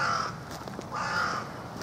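Crows caw outdoors at a bird feeding spot in Heinola, giving two harsh, rasping calls about a second apart over faint background noise, with no one talking.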